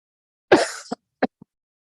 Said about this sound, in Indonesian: saya sedang berada dalam keadaan masih agak batuk-batuk